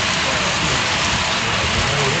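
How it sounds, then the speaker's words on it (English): Steady rain pours down outdoors beside a railway line where mid-train helper locomotives push a freight train, a dense, even hiss with a low rumble underneath and no distinct drops. "now it's raining"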